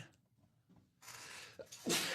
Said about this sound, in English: I'm sneezing here.